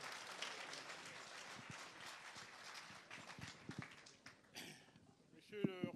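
A Rotary district conference audience applauds in a dense, fairly faint wash of clapping that thins out after a few seconds, and a voice begins speaking near the end.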